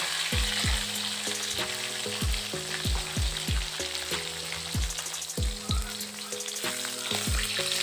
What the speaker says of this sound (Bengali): কেটে কেটে ভালো করে ভেজে নেব, মিডিয়াম ফ্লেমে দিয়ে ভেজে নেব।